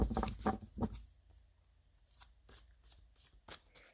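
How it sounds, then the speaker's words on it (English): A psychic tarot oracle card deck is shuffled in quick riffling bursts, a few close flurries at the start and more scattered, softer shuffles afterwards, with no talking. "I'm using my John Holland Psychic Tarot Oracle deck this week"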